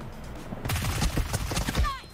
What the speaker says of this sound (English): Nice shots by Jonathan.